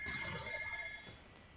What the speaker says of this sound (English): the telephone is currently ringing